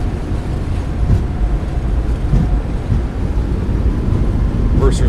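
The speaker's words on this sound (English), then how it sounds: "Reversers are out." Thrust reversers deploying on a Boeing 737 MAX 8 landing in a flight simulator, a loud, continuous low roar and rumble with wind-like noise, steady from start to finish.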